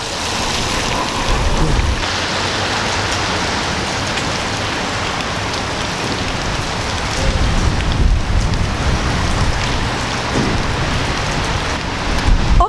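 Steady heavy rain from Storm Filomena in Benidorm, Spain, during a cold, wet spell, a dense continuous hiss with slightly louder surges, heard alone without any voices.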